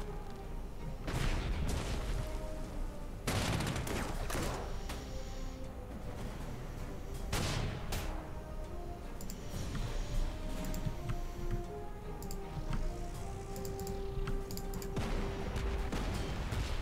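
Artillery fire in the World War II strategy game Panzer Corps 2, heard as repeated booming blasts and crackling volleys at irregular intervals, with some faint tones running underneath and no speech.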